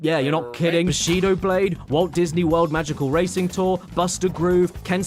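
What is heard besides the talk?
No everyday noise stands out behind the speech.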